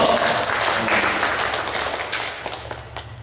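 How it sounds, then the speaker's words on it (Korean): A church congregation applauds to encourage a deacon, with a steady wash of many hands clapping that slowly fades and thins out toward the end, a few individual claps standing out. "우리 집사님 수고하시고 애쓰시는 거 위해서 우리 박수로 격려해 주세요"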